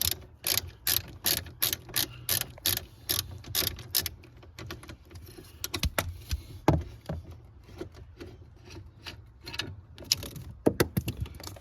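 A hand ratchet clicks in quick, close bursts while steering column bolts are undone on a Ford FG Falcon during dash removal, with pauses and scattered clanks of tools and parts in between.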